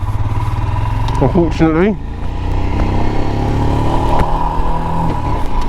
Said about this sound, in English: let's have a look at this bike out on the road and see where we end up